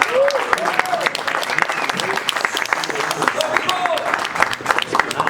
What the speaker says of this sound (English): a round of applause for a fantastic performance from Dmitry Bivol